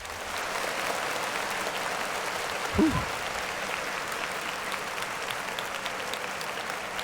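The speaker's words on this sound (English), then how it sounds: "clap it up for him" Steady, even applause runs through the whole clip in a podcast studio setting, with a single brief voice exclamation partway through.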